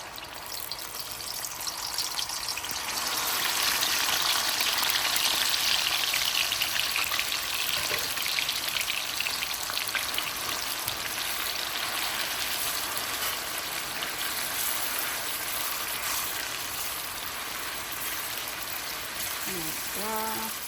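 Pepper sauce warming in a pan gives a steady, close sizzle and crackle that holds evenly throughout, with light bubbling and no voices.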